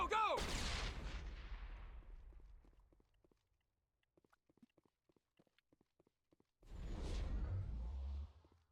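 A grenade blast in the video game Mass Effect Legendary Edition, a loud booming burst with a whooshing tail that fades over a few seconds, followed by faint scattered clicks and a second loud rumbling blast.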